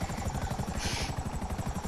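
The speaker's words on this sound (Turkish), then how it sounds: "Lan helikopter üstümüze düşüyor." A helicopter in the video game GTA 5 thumps steadily with fast, loud rotor chop and a whining turbine hiss that swells for a moment, heard alone without speech.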